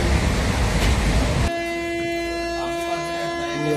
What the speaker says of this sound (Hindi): हमारी ट्रेन खुल गई